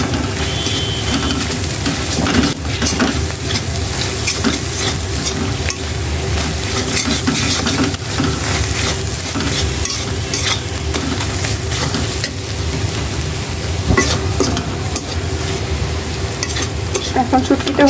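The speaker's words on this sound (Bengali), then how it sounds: "পেঁয়াজটা ভাজা ভাজা হয়ে যেতেছে" Onion and dried shrimp fry in oil while being stirred, with a continuous close sizzle broken by frequent scraping and clinking of a utensil against the pan.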